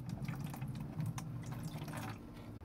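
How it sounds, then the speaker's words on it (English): Garden hose running water into a watering can, a steady rushing, splashing fill with faint dripping, close and continuous throughout. "get your hose and fill the rest of your can up with water"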